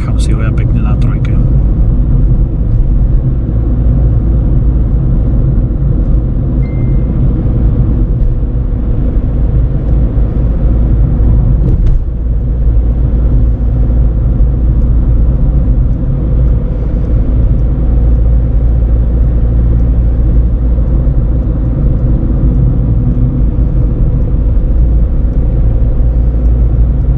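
A VW Polo 1.6 TDI diesel drones steadily from inside the cabin while driving, a loud, constant low engine and road rumble with a voice talking over it now and then.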